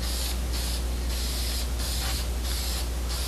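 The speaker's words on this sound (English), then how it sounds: "First I'm going to spray another coat of clear on that neck." Clear coat sprays onto a solid-body guitar neck in quick, regular hissing bursts, about six short pulses separated by brief pauses, loud and close.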